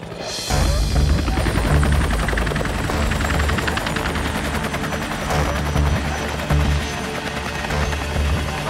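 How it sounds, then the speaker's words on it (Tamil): A helicopter flies overhead in an animated family island setting, its rotor thumping loud and steady throughout with a dense, rhythmic chop over a low engine drone. "அங்க பாருங்க ஹெலிகாப்டர்."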